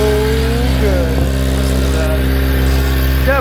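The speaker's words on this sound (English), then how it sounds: "I'm going to go ahead and fire this bike up" A 2026 Kawasaki ZX-10R sport motorcycle engine idles loudly and steadily nearby, a deep continuous rumble with a slight rev in pitch partway through.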